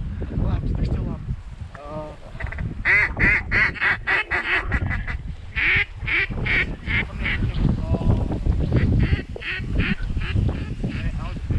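Geese honk and ducks quack in repeated, overlapping calls during a windy duck hunt, the loud nasal bursts coming close and in quick succession throughout.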